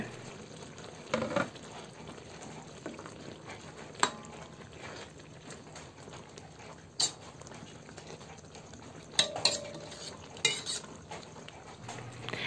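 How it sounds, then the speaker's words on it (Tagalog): A spoon stirs fish into laing, taro leaves simmering in coconut milk in a pot, giving soft scraping and occasional sharp clinks of utensil on metal over a quiet simmer. "Ilagay na natin ulit yung isda. Haluin lang natin yan."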